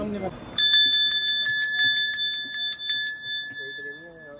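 Small temple bells, bought as an offering for Golu Devta temple in Uttarakhand, jingle and ring repeatedly in a quick rattling cluster for a few seconds, with a voice briefly before and after.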